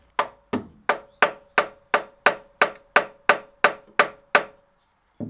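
Eleven sharp hammer blows on an old drill bit used as a punch, driving at a quick steady rhythm and ringing close and loud with a metallic tone, then a pause and one final strike.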